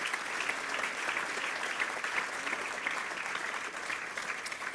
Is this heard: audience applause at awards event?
yes